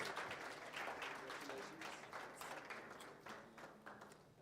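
Audience applause at the 2023 South African Mathematics Foundation annual awards, a steady wash of many hands clapping that carries on for several seconds at moderate level and thins slightly toward the end.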